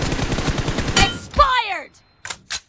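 An M416 rifle in PUBG Mobile fires a rapid, continuous spray of close, loud shots for about a second. The burst ends in a ringing tail, followed by a couple of short, sharp game effects.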